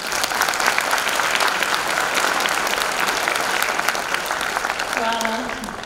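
An audience at a school Saint Sava academy celebration claps in sustained, dense applause that stays loud throughout, fading slightly near the end as a voice starts to speak.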